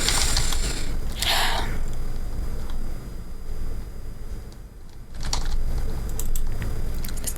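Quick bursts of computer keyboard typing while writing a Minecraft sign, close clicking clusters separated by short pauses, over a faint steady background hum.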